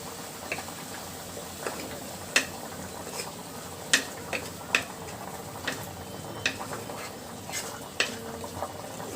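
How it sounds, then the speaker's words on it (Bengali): A spice paste of turmeric, chili and salt is stirred and sautéed in a pan over a low flame, giving a soft constant sizzle broken by scattered sharp scraping clicks of the spoon. "মশলাটা কিন্তু খুব ভালোভাবে আমার কষানো হয়ে গেছে"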